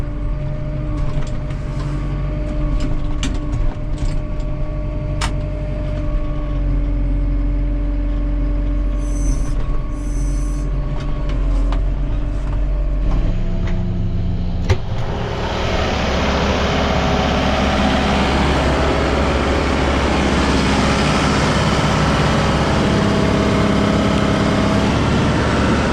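Heavy farm vehicle turning at a silage trench and dumping silage from a mixer on a dairy farm, engine idling with mechanical rattles, then a broad rushing roar as the load pours out, close and steady.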